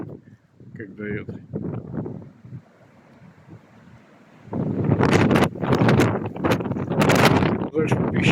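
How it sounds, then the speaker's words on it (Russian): Strong gusting wind sweeps over a lake shore in a Belarusian village during a sandstorm, a loud, broad roar that builds and buffets the microphone, following a stretch of quieter wind with speech. "Это же песчаная буря у нас."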